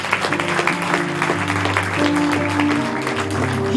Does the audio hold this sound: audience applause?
yes